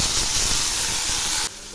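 Beans, carrot and potato pieces drop into two spoons of hot refined oil in a kadai, setting off a loud, close, steady hiss of sizzling that holds evenly, then drops sharply quieter near the end, with no talking.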